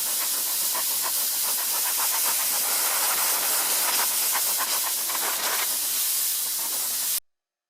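Compressed air blasts steadily across a freshly sanded white oak sign, a loud, continuous broadband hiss with slight fluttering that holds for about seven seconds and then cuts off abruptly.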